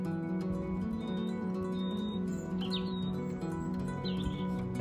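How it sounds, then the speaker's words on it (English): A few sparse, faint bird chirps ring out near Stonehenge in Salisbury, UK, scattered high above a constant low droning hum that dominates the background. "And then a bird sang"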